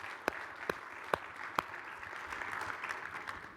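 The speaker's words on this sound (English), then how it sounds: "Let's give our three speakers, one more round of applause." Audience applause at the close of a conference session on influenza strain selection, several sharp claps rising into a steady wash of clapping from a moderately sized crowd, without speech.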